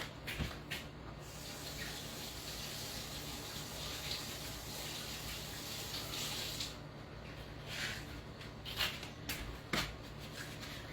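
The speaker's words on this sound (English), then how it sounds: "I'm gonna wash my hands." Running tap water splashes over hands being washed at a kitchen sink, a steady, fairly faint gush with a few brief louder splashes and no talk.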